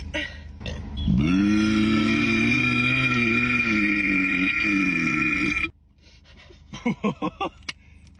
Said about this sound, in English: I can make myself burp.